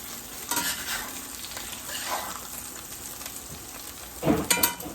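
An egg fries in sesame oil in a pan, giving a steady soft sizzle with stirring and scraping, and a louder scrape and spatter near the end as it is turned.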